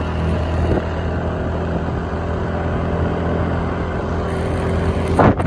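A car driven fast by a learner, its engine droning steadily with continuous road and wind noise and a brief louder surge at the end.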